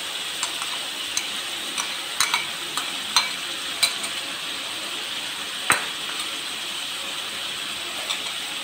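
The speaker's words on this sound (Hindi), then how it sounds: "अब मैं इसके अंदर डाल रही हूँ अदरक लहसुन।" Mutton frying in a pan with ginger and garlic added, a steady soft sizzle with scattered light clicks and stirring taps throughout, one sharper clatter midway, no talking.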